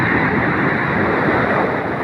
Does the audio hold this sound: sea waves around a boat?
yes